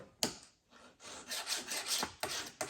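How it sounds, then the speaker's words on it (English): A hand file rasps across a metal U-joint from a 1966 Corvair driveshaft, several close, loud scraping strokes with short pauses between them. "I use a file and a piece of sandpaper"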